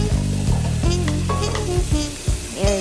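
Vegetables sizzle steadily in butter in a pan, close up, under background music that runs throughout.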